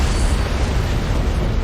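Antimatter charge detonation aboard a ship in a Halo: Combat Evolved Anniversary cutscene, a sustained, dense rumbling roar with no distinct onset, loud and unbroken throughout.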